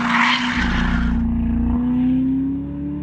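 A race car running on a track in full race mode 5, its engine a loud, sustained drone with a steady rising pitch and a rough low rumble, close by and with no talk.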